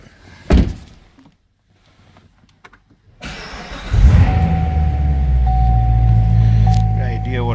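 A 2015 Chevrolet Corvette Coupe 3LT Z51 with about 20,000 miles starts up: a door thunk, quiet moments, then the starter catches and the engine flares loudly before settling into a steady, rumbling idle close by.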